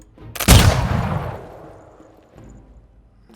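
Gunners open fire in the strategy game Humankind during an Industrial Era battle: a single loud, close gunshot-like blast that rolls off into a long fading rumble, followed by quieter distant crackle.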